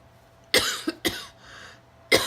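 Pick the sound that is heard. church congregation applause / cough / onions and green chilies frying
cough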